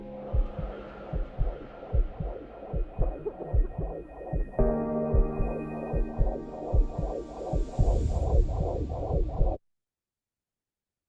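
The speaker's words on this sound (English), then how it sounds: "sad, scary music, and also a heartbeat." A slow, steady heartbeat thumps over and over beneath sad, scary music in a campaign soundtrack, rhythmic low throbs running for about nine seconds before it stops dead.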